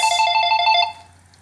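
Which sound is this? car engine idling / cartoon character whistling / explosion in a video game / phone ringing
phone ringing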